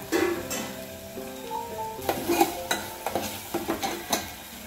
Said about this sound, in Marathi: मसाला बघू शकता आपला मसाला कसा छान असा भाजायला